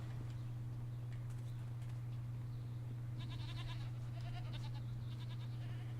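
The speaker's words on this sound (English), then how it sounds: "Hello, goats." Goats bleating in the video game Jade Empire, several short, faint bleats in a cluster over a steady low electrical hum, with no talk.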